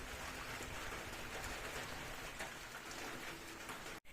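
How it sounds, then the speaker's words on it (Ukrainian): Steady rain patters down continuously as a dense, even hiss, with no voices, ending in a brief abrupt cut. "Прийшов дощик, такий нічого ну, тепло стало."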